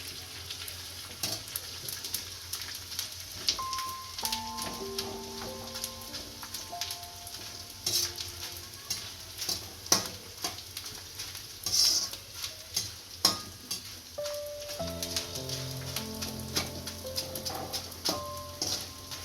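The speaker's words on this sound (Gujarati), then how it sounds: "આમાં હવે ગુંદર નાખીશું થોડો થોડો તળીશું" Hot ghee sizzling and crackling steadily as edible gum fries, while a utensil stirs and scrapes the pan now and then.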